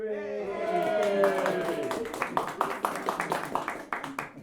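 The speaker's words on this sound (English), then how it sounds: "Got everybody clap." A small group in a room claps loosely after some chatter, with a scattering of uneven, close hand claps. Voices talk over the start.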